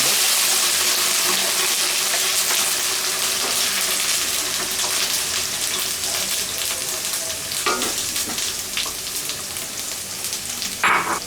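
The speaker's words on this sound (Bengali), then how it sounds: "একটা কড়াইয়ে তেল গরম দিয়ে তার মধ্যে কিছু পেঁয়াজ বাটা" Onion paste sizzles loudly in hot oil in a wok, a dense, close hiss that runs throughout. Scraping stirs and a few clinks break through toward the end, with no voices.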